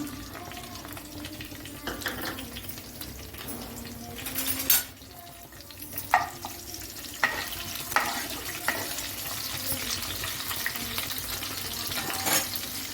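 Green chilies frying with curry leaves in a pan over medium heat for egg noodles: a steady close sizzle with scattered sharp scrapes and clinks of a spatula against the pan.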